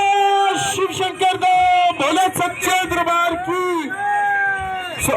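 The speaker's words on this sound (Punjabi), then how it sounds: "ਦੋਨੇ ਹੱਥਾਂ ਦੇ ਤਾਂ ਖੜੇ ਕਰਕੇ ਬੋਲੇ ਸ਼ੰਕਰ ਜੀ ਦਾ ਇੱਕ ਜਕਾਰਾ ਲਗਾਓ" Crowd at a Shivratri langar on the Khajurla national highway shouting a jaikara to Lord Shankar: loud, close, sustained group shouts and chanting voices rising and falling in repeated bursts.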